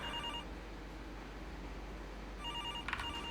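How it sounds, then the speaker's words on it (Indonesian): A telephone rings at a hotel front desk at night, brief electronic trills at low volume over steady room hiss, with no talk. "Ada telepon"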